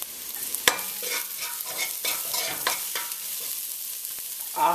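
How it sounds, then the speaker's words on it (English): Ingredients for a beef curry being stirred and sweating in a pot over low heat, with scraping spoon strokes over a gentle continuous sizzle, close and steady with no talking. "Give that a quick stir. And turn the heat down all the way down to low. We want this to sweat, cook, get soft,"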